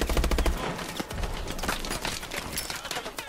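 Dense, overlapping automatic gunfire in a Call of Duty: Advanced Warfare battle: a loud opening burst, then continuous crackling shots and volleys that stay busy to the end.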